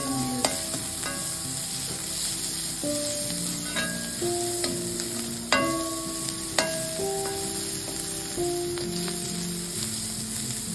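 Onions sautéing in a pan for jackfruit-style porial, a continuous soft sizzle with frequent clinks and scrapes of a spoon against metal.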